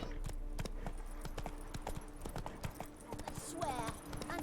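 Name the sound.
Roach the horse's hooves clip-clopping in The Witcher 3 video game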